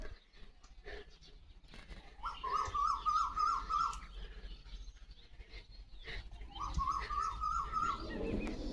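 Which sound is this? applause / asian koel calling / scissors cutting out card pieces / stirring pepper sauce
asian koel calling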